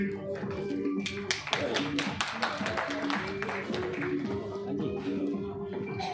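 Live audience applause at a community health talk event, steady sustained clapping from many hands throughout, with a voice and tonal background sounds underneath.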